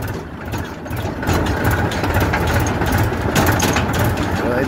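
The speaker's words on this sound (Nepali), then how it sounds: "अब यसले ट्र्याक्टर ब्याक गर्न लाग्यो भन्छ हेरौँ न कसरी गर्दो रहेछ" A tractor engine rumbles at low revs while reversing near a riverbank, a steady heavy drone with a slight rise partway through, and a voice speaking over it.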